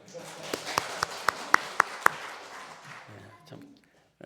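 A church congregation at a Sunday evening worship service claps in unison, seven crisp evenly paced claps, then a softer scatter of sounds and murmuring as it fades.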